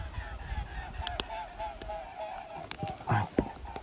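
Geese honk repeatedly overhead in a loose series of nasal calls, moderately loud, with some outdoor rustle and a brief bump near the end.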